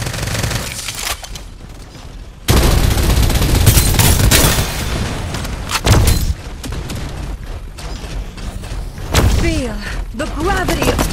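Gunfire in the Farlight 84 game, loud bursts of rapid shots and booming impacts in several clusters, with a voice and game effects in between.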